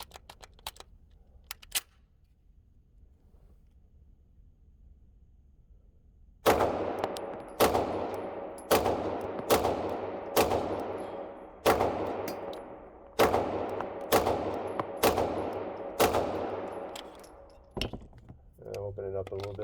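An Archon Type B gun fires in a video game with about ten sharp, evenly spaced single shots, loud and close, following a quiet stretch with a few faint clicks.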